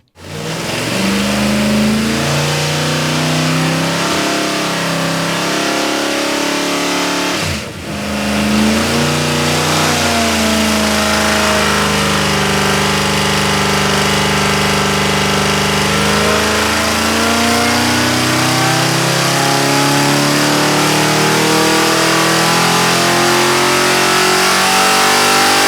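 A Ford Cleveland 408 cubic-inch V8 revs hard on a dyno after extra ignition timing, roaring loud and close for a long sustained pull with a brief dip midway, then climbing pitch and tapering, no voices.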